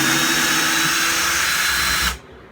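A power sander works back a wooden facing panel on a magnetic knife block, a loud steady whir that holds evenly for about two seconds and then cuts off abruptly.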